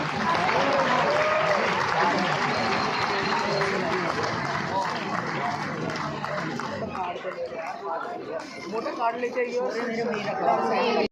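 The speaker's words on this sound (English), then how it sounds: "Have a big round of applause, everyone." Applause and crowd noise at a school annual day fill the hall steadily, dense clapping mixed with general chatter and babble throughout, thinning slightly toward the end.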